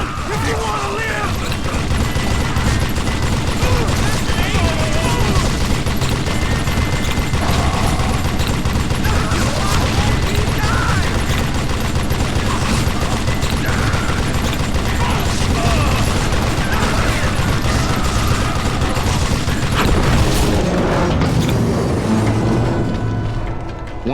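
Dense, loud gunfire and explosions in the Wild West shooter game Call of Juarez Gunslinger, with continuous bursts, booms and mechanical clatter running throughout.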